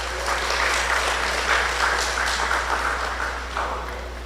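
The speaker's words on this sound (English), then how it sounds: "Give him a round of applause." Sustained applause from an audience at a pre-budget consultation meeting in Tableland, steady and dense clapping throughout that tapers slightly at the end, with a constant low hum underneath.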